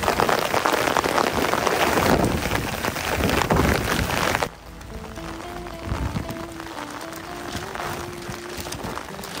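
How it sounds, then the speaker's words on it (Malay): Dense, steady heavy rain with strong wind roaring loudly for several seconds, then dropping abruptly to a softer patter with a faint tonal hum underneath. "Kita tunggu hujan berhenti."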